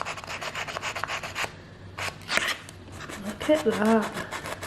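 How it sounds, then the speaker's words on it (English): Mouse sander pad rubbed by hand along the edges of a wooden Scandi-style star ornament, producing rapid rhythmic scratchy strokes up close, followed by a brief spoken remark. "we've got like a mouse sander, and this is actually a pad for the mouse sander rather than just buying any sandpaper"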